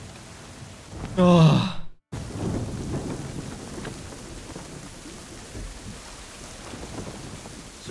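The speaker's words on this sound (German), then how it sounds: "Zeit, dass wir Schutz vor dem Sturm suchen, Captain." Heavy rain and rumbling thunder from a storm at sea in Assassin's Creed 3 fill the scene as a steady wash of noise, briefly covered early on by a loud vocal exclamation.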